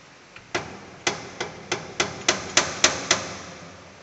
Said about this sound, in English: You can tighten the drill chuck with the help of chuck key.